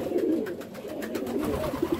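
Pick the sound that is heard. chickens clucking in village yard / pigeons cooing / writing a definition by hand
pigeons cooing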